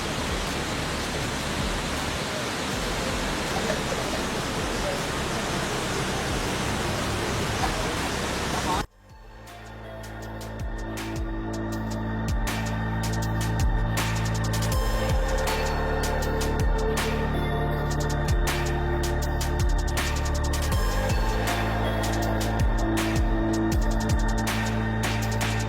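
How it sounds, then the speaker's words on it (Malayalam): Valara waterfall near Munnar, Kerala, heard as a steady broadband roar of falling water, loud and continuous at first, then cut to a busier outdoor mix with the rushing water still present under other noise. "അതാണ് വാളാറ വെള്ളച്ചാട്ടം."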